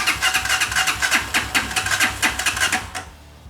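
A Hawk 250 motorcycle engine cranks and sputters in a rapid, rhythmic chatter of repeated bursts, fairly loud and close, trying to start but not catching before it cuts off near the end.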